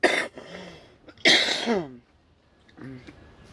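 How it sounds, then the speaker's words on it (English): A few harsh, throaty coughs and throat clearing bursts close to the mic outdoors in wind, separated by short pauses with faint voice between them. "sorry, I had a bit of a cough"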